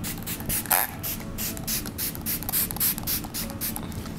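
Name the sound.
spraying Smashbox primer water face mist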